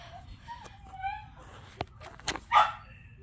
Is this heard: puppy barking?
yes